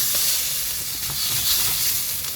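Prawns and squid sautéing in a pan for seafood risotto, a loud steady hiss and sizzle close up, with no talking.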